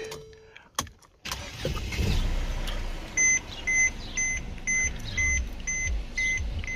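A Mercedes C250 W204 starts up with a short cranking burst before its engine settles into a low, close idle, while a regular series of high, clean dashboard chimes repeats over the running engine.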